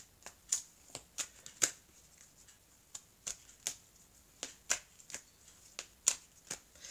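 A deck of amethyst oracle cards is shuffled at close range during a tarot-style reading. Quick, irregular riffles and taps run steadily and quietly throughout.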